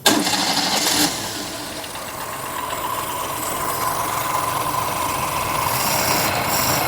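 A motorcycle engine fitted with a freshly tuned carburetor kicks into life with a sharp burst, then settles into a steady, loud idle that holds and slowly rises as the throttle is eased open.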